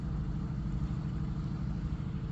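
Car engine rumbling low and steady at a harbour at night, a continuous muffled drone of the vehicle driving in nearby with no other clear sounds.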